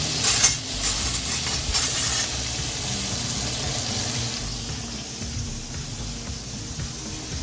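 A T-bone steak sizzles in a hot pan just after being flipped, a loud, bright hiss with a burst of spattering at the start that settles into a steady, softer frying sizzle, and no talk.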